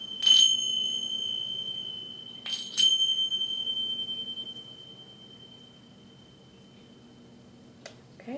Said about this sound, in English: I'm also being asked to bring in the chimes, and we're going to ask to clear the energy.